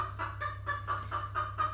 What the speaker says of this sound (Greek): Πολύ ωραίο κοκόρι αυτό.